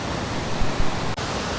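Bandaje Falls, a waterfall reached on a trek, gives a loud, constant broadband rush heard from nearby, with a brief dip near the end and no voices.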